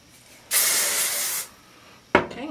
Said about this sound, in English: grab some hairspray, spray that back, and then get this one and do the same. Spray it back.